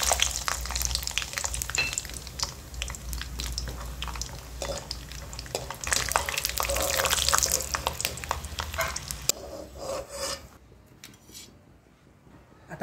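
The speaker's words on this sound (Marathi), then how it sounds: "आता आपण शेंगदाणे तळून घेऊ" Peanuts frying in hot oil in a kadhai for kande pohe: a steady, dense sizzling hiss that carries for most of the stretch, then drops away to near quiet.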